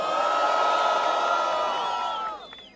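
Loud crowd at a street rap battle in Londrina cheers and shouts for a round, a sustained roar with whoops that holds steady and then drops off sharply near the end.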